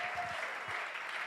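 An audience at a church worship gathering gives strong applause, a dense continuous clatter of many hands clapping at moderate volume, with a few low thumps near the start.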